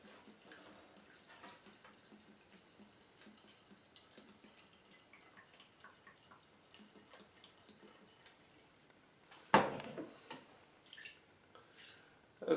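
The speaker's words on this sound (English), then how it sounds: "We're going to put 375 milliliters of the 190 in there." Clear, high-proof 190 alcohol poured into a measuring container while making limoncello, a soft steady trickle running for several seconds and then a louder splashing burst near the end.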